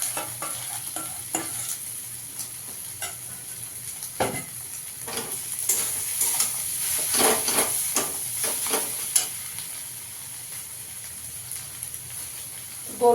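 Mashed boiled potato and fried egg stirred together in a frying pan, with a spoon scraping and tapping in uneven strokes over a faint steady sizzle, close and fairly quiet.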